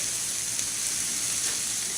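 Shallots sweat in a pan over slightly lowered heat for a crab meat stuffing, giving off a steady, faint, even hiss with no talking.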